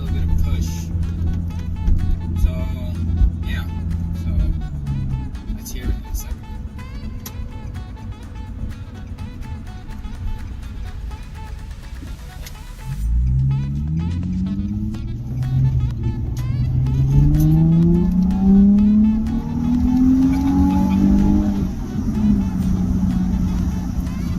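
A Nissan 350z sports car idles and then revs in a residential subdivision, its exhaust rising in several climbing, trumpet-like pulls over a steady low rumble, close and loud, with someone talking over parts of it.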